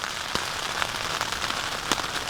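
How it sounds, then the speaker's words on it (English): Rain falling on a camping tent's rain fly, a dense steady patter of close drops with a few sharper individual taps standing out. "it just kept on raining"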